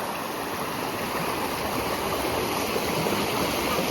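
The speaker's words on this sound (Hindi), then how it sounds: "और ये गंगा नदी है।" Flowing water of the Ganges river at Rishikesh, a steady, full rush of current that holds at an even loudness from start to finish with no voices over it.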